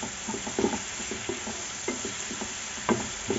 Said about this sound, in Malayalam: നമുക്ക് രണ്ട് തക്കാളി ചെറുതായിട്ട് അരിഞ്ഞത് ഇട്ട് കൊടുക്കാം